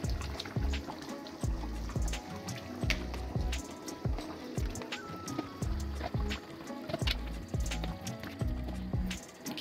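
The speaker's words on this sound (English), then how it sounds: "Just gonna drop in the potatoes and give it a good stir." Potatoes drop into a mutton curry in a pot and are stirred through the thick gravy, producing wet plopping, repeated knocks and sloshing at a fairly low level.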